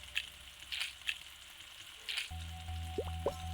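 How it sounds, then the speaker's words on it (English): Onions sizzling on a griddle in a burger-cooking video game, soft crackles and pops that settle into a steady fizzing tone with a few bubbly chirps, quiet and alone. "I need to griddle some onions."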